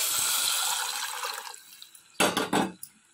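Liquid poured into a pan while cooking Chettinad kalani rasam, a steady splashing pour that fades out, followed by a few short clattering kitchen sounds.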